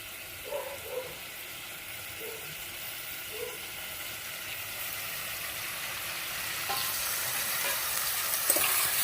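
Chopped eggplant frying in a pan for a cauliflower-stalk chorchori, a soft steady sizzle that grows louder and hissier toward the end, with a few light clinks and no talking.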